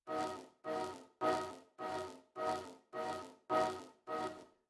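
A tiny piano sample with reverb and OTT compression repeats eight times in a steady pulse, each short chopped note swelling and cutting off. It sits quiet and alone.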